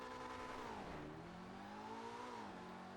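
In GTA Online, the Emperor ETR1's engine roars steadily up close, its pitch dipping and then swelling back up as the revs change, with no other sounds alongside.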